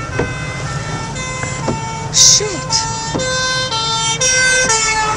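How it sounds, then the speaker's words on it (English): A fire engine siren wails in rising and falling sweeps with an air horn blast, traffic rumbling underneath and a brief exclamation from a nearby voice. "This is another fire engine."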